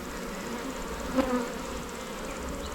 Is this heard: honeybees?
yes